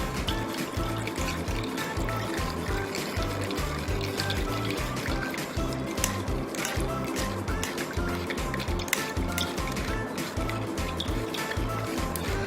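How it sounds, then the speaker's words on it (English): Blended watermelon juice with tapioca pearls draining through a sieve while a fork stirs the pulp, giving a continuous soft trickle and patter with scraping clicks, close and steady throughout. "Now I'm going to use the fork to make space for the juice to go out."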